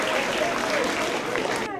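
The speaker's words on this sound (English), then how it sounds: "Yeah, round of applause." A school audience claps at the Eagle Point Elementary 50th anniversary celebration, a brief, dense burst of applause with voices mixed in, ending abruptly.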